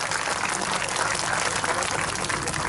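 A crowd at a political speech claps steadily, a dense, even wash of applause heard from some distance without any voice over it.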